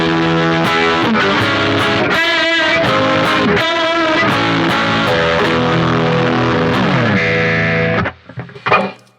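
Distorted electric guitar through a Boss Katana amp on a preset, loud and sustained chords ringing continuously, then cutting off near the end with a few brief trailing notes.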